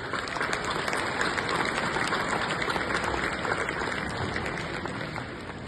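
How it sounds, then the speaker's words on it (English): A graduation audience applauds steadily, a dense, even wash of many hands clapping that is held at moderate loudness and fades slightly at the end. "Graduates, let's give them a round of applause."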